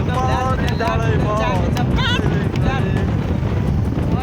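Strong wind buffets the microphone in a constant low rumble at Bojini Dam while people talk over it.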